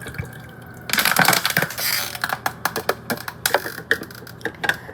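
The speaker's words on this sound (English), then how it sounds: "I'm filling up my coffee maker with water." Water poured into a coffee maker, starting with a burst of splashing and running liquid, then trailing into scattered clicks and taps of handling, close and fairly loud.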